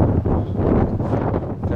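Wind blows steadily past an 11-blade Thermodyne 12V wind turbine under outdoor test, a loud, continuous rumbling buffet across the microphone with no voices.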